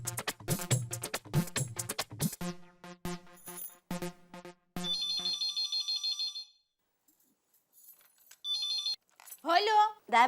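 A telephone rings in a household sitcom scene, repeated electronic ring bursts with gaps between them, preceded by people talking and followed by a voice.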